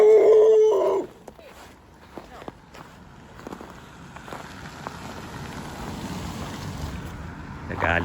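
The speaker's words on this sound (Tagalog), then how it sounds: "Nagalit yung aso." A large, angry dog in Canada gives a loud, tonal bark or howl at the very start. Quieter outdoor ambience with footsteps follows.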